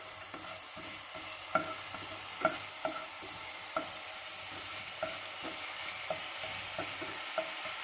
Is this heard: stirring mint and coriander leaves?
yes